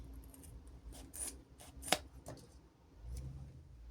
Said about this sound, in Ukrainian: Можна взяти ножиці та підрізати на потрібний розмір чи форму.